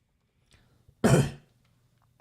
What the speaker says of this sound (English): I've still got the remnants of a cough